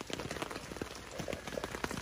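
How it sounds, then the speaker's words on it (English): Dense, steady patter of heavy rain drumming on a surface at a night campsite in Seminole State Forest, close and continuous, with no voices. "It's pouring rain outside."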